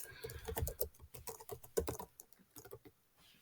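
Password being typed on a computer keyboard: a quick, irregular run of close, crisp key clicks with brief pauses between bursts, no voices.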